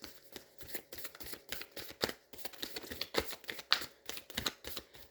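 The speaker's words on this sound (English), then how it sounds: "I'm going to shuffle one more time" Rapid riffling and flapping of a new, slightly sticky tarot deck being shuffled up close, in quick bursts with sharp snaps, no talking.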